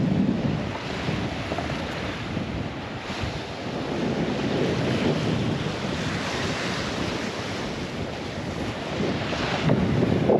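Wind and surf on Sandy Cape beach, a continuous roar of breaking waves with heavy wind buffeting the microphone, loud and steady for about ten seconds with no voices.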